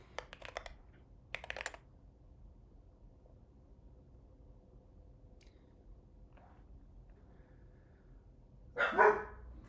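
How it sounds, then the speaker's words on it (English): A single short, loud bark rings out from a dog nearby near the end, after a few faint keyboard typing bursts in an otherwise quiet room. "Guys, enough with the barking."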